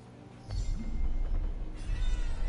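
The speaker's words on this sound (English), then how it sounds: "A cat." A cat meows in the Forspoken video game, a short, close, clear call of a couple of rising syllables over low ambient rumble.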